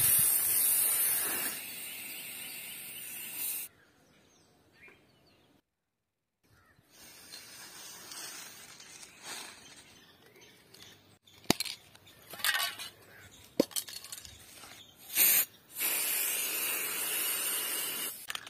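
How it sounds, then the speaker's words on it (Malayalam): White spray paint hisses from a can onto a damaged plate in bursts, loud at the start and end with a quiet gap between, and light clinks and handling sounds during the pause. "ആദ്യം നമുക്ക് ഇത് മൊത്തം ഈ ഒരു വെയിറ്റ് സ്പ്രേ വെച്ചിട്ട് മൊത്തത്തിലൊന്ന് വെയിറ്റ് ആക്കി എടുക്ക"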